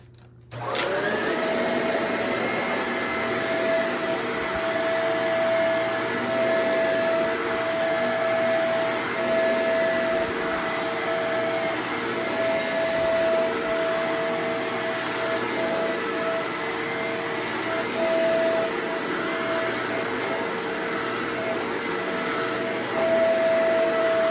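Upright vacuum cleaner with a brush roller running steadily at close range, a continuous loud whoosh with a faint tonal whine, no talking.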